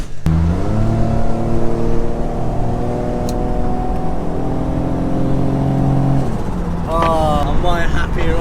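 A 400 bhp Toyota Soarer with a 1JZ engine and automatic gearbox, heard from inside while driving, pulls hard in one long rising rev with a throaty harmonic growl, then drops back and climbs again through a quick shift.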